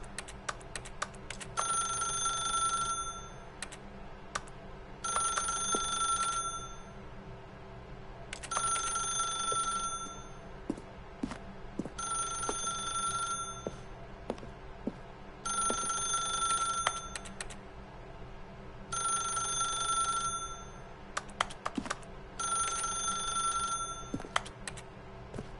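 A telephone rings repeatedly inside the video game The Stanley Parable, with about seven evenly spaced, bright electronic ring bursts separated by short pauses over a quiet, faintly humming background.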